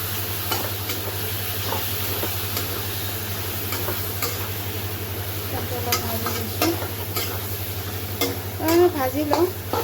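Chicken pieces sizzle and fry in a pan while being stirred, with scraping and clinking of the utensil growing busier toward the end, over a steady hum in a home kitchen.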